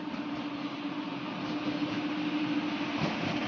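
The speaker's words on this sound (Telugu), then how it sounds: "గుంటూరు వెళ్ళే బండి అది" Passenger train bound for Guntur rumbling past a station in a steady, loud roar with a sustained hum from the carriages, heard close with no talk.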